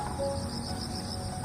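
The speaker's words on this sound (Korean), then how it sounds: "이 귀뚜라미 소리랑 새소리가" Crickets chirp outdoors in a steady, dense trill that runs throughout, with no voices or other clear sounds on top.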